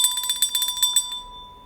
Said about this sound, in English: There, get the bell.